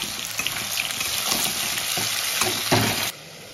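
Food sizzles in a pan just after salt goes in, with scraping stir strokes at an irregular rhythm over a steady close frying hiss that drops away near the end.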